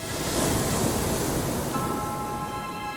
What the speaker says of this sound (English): As the water crashed against the steep cliffs